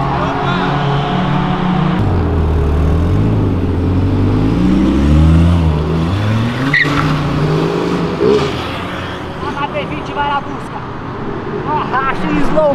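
A Hyundai HB20 roars away from a car event onto the street, engine revving up, dropping at the shift into second, then pulling again, loud and close with crowd noise and voices around.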